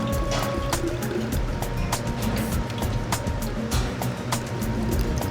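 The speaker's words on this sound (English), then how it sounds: "So then this is just going to pour right in there" Liquid pours steadily into a container, a continuous broad rushing wash with occasional sharper clicks and spatters throughout, close and fairly loud with no voices.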